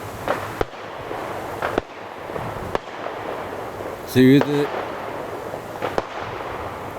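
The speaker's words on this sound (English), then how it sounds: "the firework." Fireworks crack and pop in sharp, separate bursts during a Halloween night walk around Mons Hill, spaced a second or more apart over steady background noise, while people talk between the bangs.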